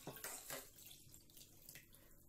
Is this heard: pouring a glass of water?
yes